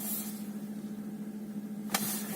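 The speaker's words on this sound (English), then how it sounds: "Okay, this car is now idling." A Volkswagen Passat W8 idles with a steady, even low hum that stays quiet and unchanging throughout, with a brief click near the end.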